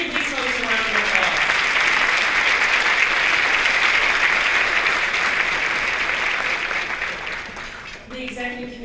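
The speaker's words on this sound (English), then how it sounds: "Please give these folks a round of applause." Applause from a conference luncheon audience, a dense, loud wash of clapping that holds steady for several seconds, then thins and fades near the end as a voice returns.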